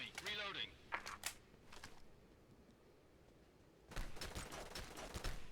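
Rapid bursts of gunfire from a Counter-Strike-style video game match, several sharp volleys close together at the start and again at the end, with a quieter stretch between and voices talking in the background.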